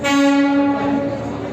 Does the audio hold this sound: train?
yes